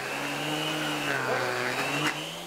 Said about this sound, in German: So fällt beim Miele-Staubsauger das Geräusch auf.